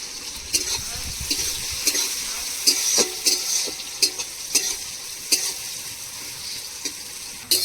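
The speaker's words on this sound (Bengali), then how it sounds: "এবার পেঁয়াজ ভাজা হয়ে গেছে" Onions sizzle steadily in hot oil with bay leaves, with sharp scraping clicks from stirring at irregular intervals and almost no talking.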